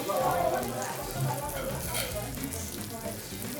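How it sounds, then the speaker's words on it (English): Ribeye steak for fajitas sizzling on a hot plate, a steady crackling hiss close by, with voices talking over it. "this bad boy is nice and sizzling and smoking hot right now"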